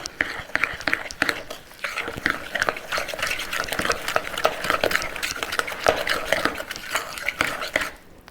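A spoon stirs sugar into a mixture in a bowl, making a busy, continuous run of scraping and clinking strokes against the bowl's sides, close and fairly loud, with no talk.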